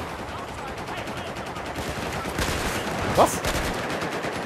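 Automatic weapon fire from a Battlefield 4 match on PS3 rattles in rapid bursts amid the game's ambient mix, with a brief spoken interjection near the end.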